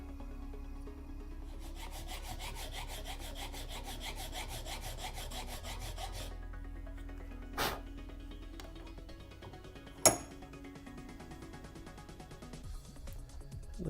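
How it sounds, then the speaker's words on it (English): A file works a bevel on a Sabine Wren helmet in steady, rhythmic rasping strokes, close and fairly loud for several seconds, then stops, leaving a quieter stretch with a couple of sharp knocks. "So I'm going to file away at that a little bit more."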